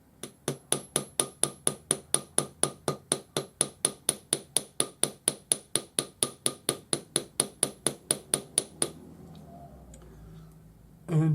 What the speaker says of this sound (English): Piece of timber, bench block, and I'm just going to gently hammer this from one end to the other.